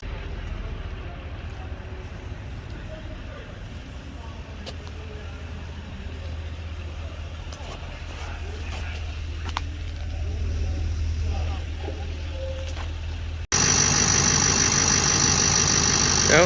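An older square-body tow truck and hauler drives along with a steady low engine rumble and road noise throughout, growing louder and brighter near the end.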